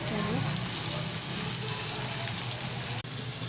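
Ginger sizzles steadily in a pan for vegetarian matar dal, a loud, even frying hiss that continues almost unbroken, with a short break near the end.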